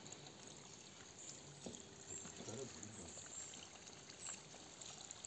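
Water pouring steadily into a garden pond, a continuous gentle trickle and splash that stays soft and even throughout.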